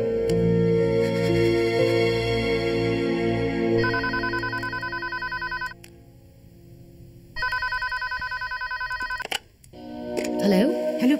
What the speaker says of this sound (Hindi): प्रियंका, अच्छा हो जो तुमने फोन उठाया